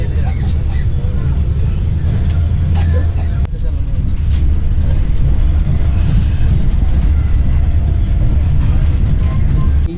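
Vande Bharat Express train 22227 pulls out of New Jalpaiguri bound for Guwahati in monsoon weather, a loud continuous rumble and rattle heard from inside the coach, with faint voices in the background.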